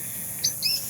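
Two short, high chirps from a bird sound faintly against a steady background hiss, one quick note followed by a slightly longer one.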